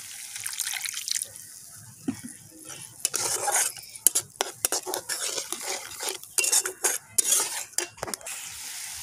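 A spoon scrapes and stirs spices being fried in oil with chicken and potato in a pan, with irregular clattering strokes against the metal close by and no talking.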